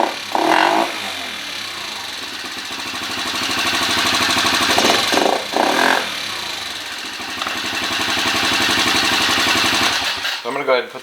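A 2013 Kawasaki KFX 50 ATV engine runs without its air cleaner, a close, steady buzzing drone that swells and fades as it is revved, with several short stuttering dips before it cuts out near the end.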